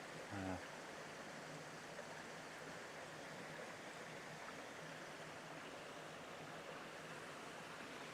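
A woodland brook flowing toward a small pool in North Wales, a steady broadband rush of running water close by, continuous and even throughout.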